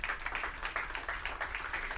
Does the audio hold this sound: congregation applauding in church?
yes